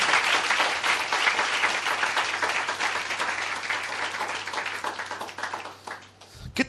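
A church congregation applauds at length, a dense, loud wash of clapping hands that slowly thins and fades out near the end, followed by a brief thump.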